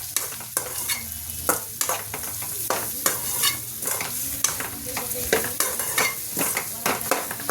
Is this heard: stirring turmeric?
yes